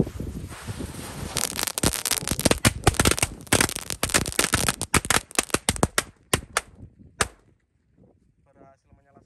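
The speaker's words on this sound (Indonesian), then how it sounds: "Selanjutnya kita nyalakan mercon gold pearl. Ini 1 pak sekaligus ya." A whole pack of gold pearl firecrackers bursting in a rapid, loud, dense string of sharp cracks that thins into scattered pops and then stops, leaving near silence with faint sounds at the end.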